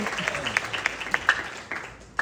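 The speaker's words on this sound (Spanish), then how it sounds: "¿Cuánto le dan un aplauso al Señor por eso?" A church congregation breaks into applause, scattered claps rising and falling in short bursts with a voice over them.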